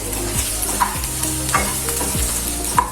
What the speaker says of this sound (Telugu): ఇప్పుడు మనం లాస్ట్గా మనం మిక్సీలో వేసుకున్న మసాలాని యాడ్ చేసుకుందాము. బాగా మిక్స్ చేసుకుందాం.